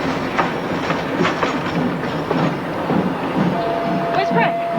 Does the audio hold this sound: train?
yes